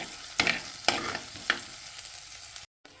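Onion, ginger and green chillies stir-fried in a pan for fish curry, three or four sharp scraping stirs over a constant sizzle, then a brief cut to silence near the end.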